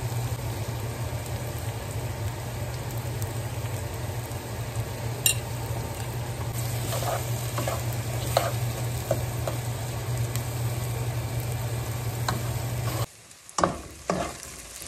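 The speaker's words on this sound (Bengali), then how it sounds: "পেঁয়াজটা ভাজা হয়ে গেছে," Onions with a pinch of salt sizzle steadily in a pan, a continuous frying hiss with occasional stirring scrapes and utensil clinks, ending in a brief quieter stretch with a few sharp knocks.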